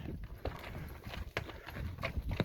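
Scattered hoof clops from a group of horses on a rocky trail near Mount Whitney, irregular and moderately close, with a faint background hiss and no clear voices.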